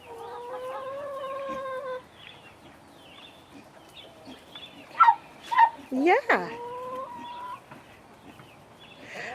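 Chickens clucking and squawking nearby in a short burst of calls, with a brief spoken word and some animal sounds earlier.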